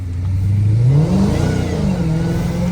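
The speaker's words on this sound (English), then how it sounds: "you got to give it a little bit more gas to break the tires loose" A Dodge Challenger Hellcat Redeye engine revs hard and rises in pitch, loud and close, with a brief tire-loosening surge before settling into a steady roar.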